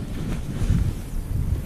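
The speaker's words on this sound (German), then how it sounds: "Der Wind macht es nicht einfach." Steady wind buffeting the microphone at a riverbank on a winter pike-fishing outing, a continuous low rumbling roar with no voices.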